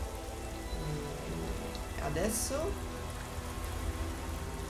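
Rain has begun falling in the game, a steady soft hiss of drops throughout, while a voice briefly speaks in the middle.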